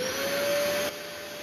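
Bissell Spotclean Pro upholstery cleaner running steadily with a loud, continuous motor whine and suction hiss, dropping slightly in level partway through, with no talking.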